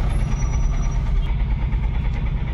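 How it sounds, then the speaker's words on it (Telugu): Vehicles sit stuck in a traffic jam in a narrow lane, engines rumbling and idling loudly nearby in a steady low drone, with a faint high whine at the start. "వచ్చి ఈడ ట్రాఫిక్ జామ్లో ఇరికిన."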